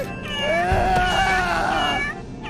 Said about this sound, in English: a toy cat starts meowing